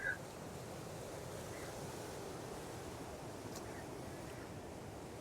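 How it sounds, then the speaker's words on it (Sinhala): Waves wash ashore at a beach as a steady broadband roar, with wind buffeting the microphone and no clear individual breakers, constant and moderately loud throughout. "මම මොදෙන බීච් එකට ආවා."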